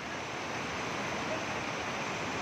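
Savatsada waterfall near Chiplun, swollen by monsoon rain, pours in a steady, dense roar of water that stays constant and close throughout, with no voices.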